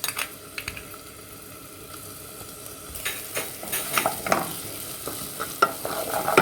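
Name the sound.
garlic frying in hot onion oil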